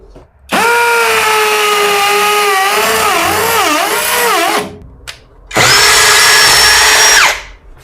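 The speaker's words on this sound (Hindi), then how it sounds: "चलिए अब हम यहां पे ड्रिल करते हैं।" A compact impact drill with a metal chuck whines loudly at high pitch, its motor speed dipping and wavering as it bores a 1.25-inch hole, then a brief pause and a second strong burst; no talking.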